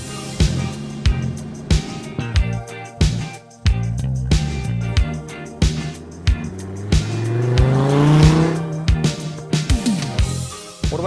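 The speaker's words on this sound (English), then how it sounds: "I drive a 2004 Dodge Viper." A lightly modded 2004 Dodge Viper on Stage 1 coilovers, its engine revving and surging through gear changes with sharp bursts, loud and close, and a swelling tone as it accelerates.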